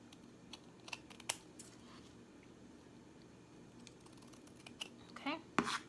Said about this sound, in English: So I'm going to cut this ribbon off just to make it even.